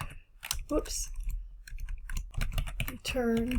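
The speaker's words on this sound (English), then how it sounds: "I have to type this by hand." Keystrokes tapped out on a computer keyboard while entering spreadsheet axis values, a quick irregular run of close clicks mixed in with a person speaking.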